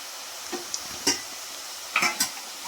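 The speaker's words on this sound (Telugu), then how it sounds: "కొంచెం పొంగు ఆరినాక తిప్పుకోండి" Ribbon pakodi frying in a pan of oil as it is turned, with a faint steady sizzle broken by a few brief scraping clicks and knocks of the utensil against the pan.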